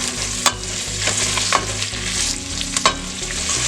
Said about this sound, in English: You're gonna stir often so they all get oil.